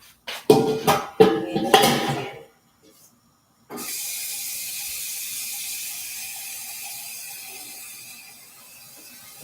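A kitchen tap fills a pot with water for cooking spaghetti, a steady close rushing stream that starts after a few loud clatters and pauses, then runs on evenly.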